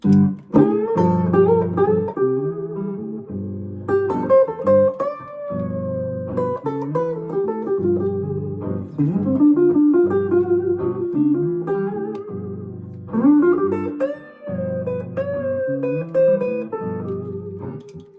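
An electric guitar runs melodic D Dorian scale lines over a held dominant seventh backing chord, notes rising and falling in a modal pattern at moderate volume.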